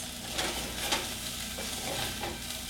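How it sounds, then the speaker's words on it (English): Herbs get stirred through hot oil with onions and mushrooms in a pan for a vegetarian bolognese, giving a soft, steady sizzle with a few gentle scraping strokes, close and fairly quiet. "so get those herbs stirred around"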